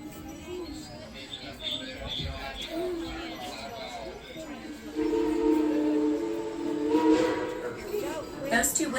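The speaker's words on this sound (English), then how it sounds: "Those two whistles you just heard tell us that our engineer has received our all clear" Two whistle blasts from the Dollywood Express steam train sound at a moderate distance amid crowd chatter and nearby voices, the longer tonal blasts arriving in the second half.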